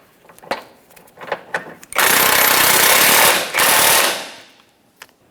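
A power tool runs hard on a Jeep Patriot's suspension mounting bolts, roughly two seconds of loud, steady impact rattle with a brief dip midway, preceded by a few light clanks and taps nearby.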